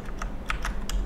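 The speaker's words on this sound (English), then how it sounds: "click J on your keyboard" Keys on a computer keyboard tap out several quick, distinct presses in an uneven rhythm, close and clear over a low steady background hum, with no talking.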